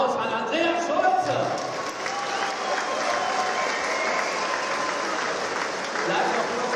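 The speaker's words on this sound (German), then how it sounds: "Wir schicken nochmal einen Applaus an Andreas Schulze" A crowd at a boxing night in Dessau applauds a motorboat racing champion, a steady sustained clapping at moderate loudness with some crowd murmur beneath it.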